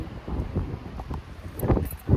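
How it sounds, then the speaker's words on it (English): Wind buffets a handheld microphone outdoors in a park, making irregular low rumbling gusts that swell and fade in short bursts, louder toward the end. "I'm in the park and it's really windy"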